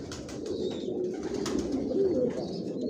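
Racing pigeons in a loft coo softly and continuously, a low murmuring chorus close by with a few faint higher chirps over it.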